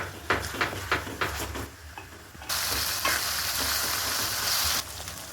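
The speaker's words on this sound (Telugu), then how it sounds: "మంచిగా వేయించుకోవాలి ఇది పచ్చివాసన పోయే వరకు" Masala for fish curry frying in oil in a pan, a steady crackling sizzle with intermittent stirring scrapes and taps, louder sizzling bursting up midway, close and alone.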